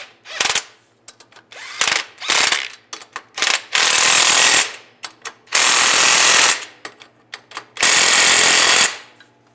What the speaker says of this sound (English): Now we'll tighten up the clamp. Use a 14 millimeter socket.